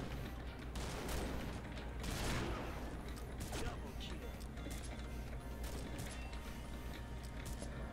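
Combat Arms gunfight with an L115A3 sniper rifle: a few sharp shots and mechanical clanks stand out over steady battle din, with a louder burst near the middle and a player talking over it.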